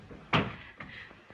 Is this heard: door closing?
yes